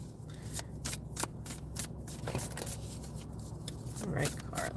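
A large oversized deck of oracle or tarot cards is shuffled by hand, giving repeated crisp riffling bursts in quick succession at close range, with a person talking over parts of it.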